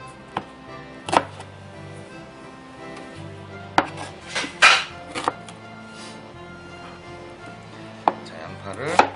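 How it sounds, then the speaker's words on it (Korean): An onion sliced not too thinly with a knife on a cutting board while making a rockfish dish: irregular crisp knife chops with several sharper thuds, close and fairly quiet, with no talking. "양파를 그냥 너무 얇지 않게 써세요"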